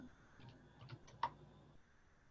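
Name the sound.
typing on a computer keyboard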